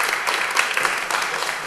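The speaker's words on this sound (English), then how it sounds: "I'm not looking for applause." Audience applause in a city council meeting chamber, a steady dense clapping that holds throughout with no talk over it.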